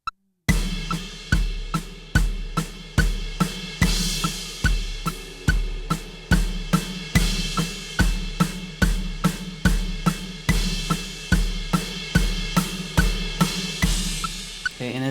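A drum kit plays steady, driving eighth notes on the snare with accents, a sharp, evenly spaced stream of hits with a low kick underneath, loud and close for about fifteen seconds.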